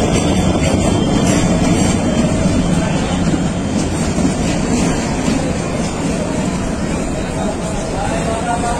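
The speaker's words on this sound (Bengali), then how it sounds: "আসছে চাঁদপুর থেকে ছেড়ে আসা চট্টগ্রাম অভিমুখী সাগরিকা কমিউটার এক্সপ্রেস" The Sagarika Commuter Express, a local train from Chandpur bound for Chattogram, arriving in a loud, continuous, close rumble of engine and wheels that holds steady throughout.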